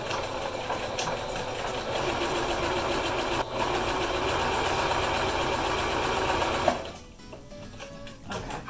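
A sewing machine runs a long gathering stitch along fabric for an 1890s Victorian blouse, a steady close mechanical whir that continues for several seconds, then stops abruptly with a click and a quieter tail.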